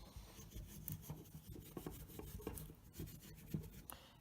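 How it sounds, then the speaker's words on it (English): Steel wool with Gibbs lubricant scrubbing grime off an SU carburetor for a 240Z, close, quiet scratchy rubbing strokes in an uneven rhythm, alone. "A little bit of steel wool is really good in combination with Gibbs, and that really scrapes all the grime off"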